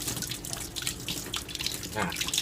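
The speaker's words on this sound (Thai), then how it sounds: "เราก็ทำความสะอาดล้างปี กล้างปีกมันนิดหน่อย หน้าหลังนะครับ" Scallops rinsed under a running tap in a kitchen sink, a steady close splashing of water with small drips and knocks of the shellfish, faint background noise and no clear speech.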